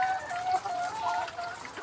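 Laying hens clucking on a poultry farm, a soft continuous chorus of clucks and calls at moderate distance, with no voices over it.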